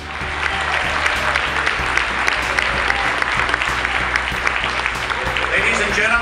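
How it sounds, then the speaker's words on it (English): Graduation audience applause for Finlandia University's 2018 graduating class, a loud, sustained burst of clapping that holds steady throughout, with a faint low hum beneath. "Please give them another round of applause."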